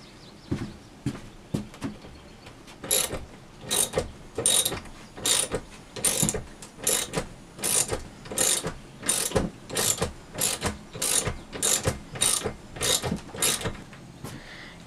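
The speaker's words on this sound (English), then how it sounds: "I'm actually gonna go get a real wrench because it'll go much quicker and easier" Ratchet wrench tightening bolts during tiny house construction, a long run of rapid clicking bursts in a steady rhythm, each stroke a close, loud ratcheting burst separated by short pauses.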